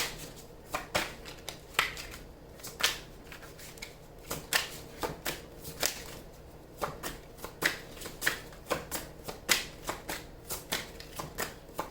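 Tarot cards are shuffled by hand at close range, giving a long run of crisp riffling bursts in an uneven, repeating rhythm with no talking.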